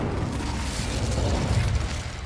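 An Incendio fire spell erupts in Hogwarts Legacy, a dense, roaring rush of flame with crackling bursts that stays loud and steady for a couple of seconds, with no voices.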